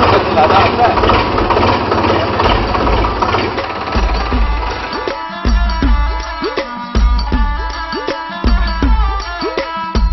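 A tractor engine runs steadily throughout a drive, a loud continuous rumble with rhythmic mechanical knocking that becomes more pronounced in the second half, with no talk over it.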